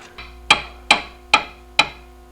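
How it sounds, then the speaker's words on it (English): Hammer blows driving a front-end part into place on a 2004 GMC Denali: four sharp metallic strikes at an even, moderate pace, close and loud, with a faint low hum underneath. "I just put the cup on here, put a cup down here, and I just hammered this one down"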